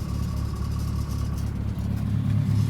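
A car engine fitted with a Holley 5200 carburetor idles steadily at about 1100 RPM, a continuous low mid-range hum that holds level throughout, close and fairly loud with no one speaking.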